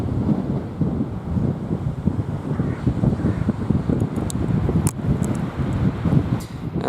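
Wind blowing steadily across an exposed stretch of coast at North Portland, a continuous low rumble with gusty buffeting against the microphone, brief sharper knocks near the end, and no voices.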